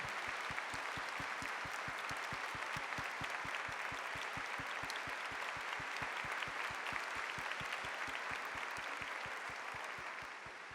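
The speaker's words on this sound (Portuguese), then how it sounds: "Uma salva de palmas a todas as mães" Sustained applause from a church congregation honoring the mothers present at a homily, steady dense clapping for about ten seconds that fades slightly at the end.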